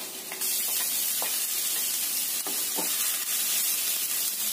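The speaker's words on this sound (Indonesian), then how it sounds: "Tumis sampai agak layu ya bawang merahnya. Kemudian kita tambahkan bawang putih dan juga jahenya." Shallots, garlic and ginger sizzle steadily in a hot pan, a continuous bright frying hiss with a few scraping stirs of a spatula, close and alone without talk.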